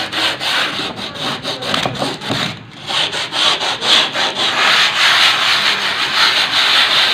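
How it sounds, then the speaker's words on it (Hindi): A canvas surface is rubbed by hand to remove grains, a loud, close, rhythmic scraping of rapid back-and-forth strokes with one short pause, then continuing steadily with no voices. "तो थोड़ी देर रब करेंगे इसको ताकि इसके ऊपर से ग्रेन्स जो से हैं वो अच्छी तरह से रिमूव हो जाए"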